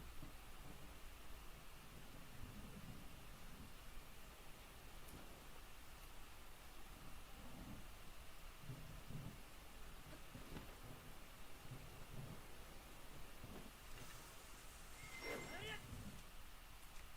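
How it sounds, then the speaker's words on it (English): Rain falls in Zelda: Breath of the Wild as a steady, soft, wide hiss, with low rumbles of thunder underneath and a few brief crackles near the end. "And there we go with the rain."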